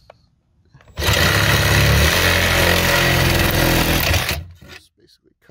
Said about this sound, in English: For that I'm gonna take my Sawzall to it.